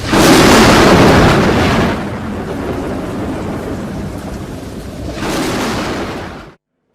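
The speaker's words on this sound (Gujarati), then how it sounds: "જોઈએ આવ્યો વરસાદ" Torrential monsoon downpour in Mahuva, Bhavnagar district, Gujarat, where Talgajarda village lies flooded: a loud, dense roar of rain that surges at the start, eases to a steady hiss, then swells again before cutting off.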